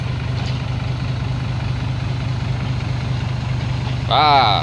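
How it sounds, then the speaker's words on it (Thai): A six-wheel truck engine idles steadily with a low, even rumble while set to tow a pickup that slid off a slippery clay roadside after rain; a voice cuts in briefly near the end. "ก็เลยเอาหกล้อลากดีกว่า"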